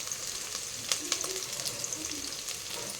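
Ginger garlic paste sizzling in hot oil in a pan for chicken pulao, a constant bright frying hiss with a few sharp crackles and spatter pops, close and continuous, with no voices.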